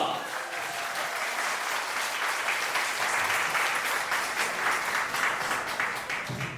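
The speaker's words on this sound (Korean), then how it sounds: "박수 부탁드립니다" Guests applauding at a wedding ceremony in a Korean wedding hall, dense continuous clapping from a seated crowd, even and sustained for the whole stretch.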